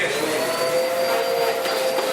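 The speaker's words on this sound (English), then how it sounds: "Turn on that vacuum just for the hell of it." A vacuum cleaner runs steadily and loudly, its constant motor whine and airflow roar filling the space with no pauses.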